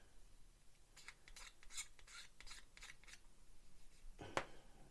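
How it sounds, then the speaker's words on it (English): A knife blade scrapes across a plastic part from a Revell Lockheed Ventura PV-1 model kit in a quiet series of short, rhythmic strokes, ending with one sharper scrape. "You just take a knife and gently letting the knife do the work."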